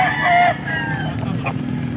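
A Boston Roundhead gamecock crows once, close and fairly loud, at a market-like spot in Pampanga, followed by softer clucking and background murmur.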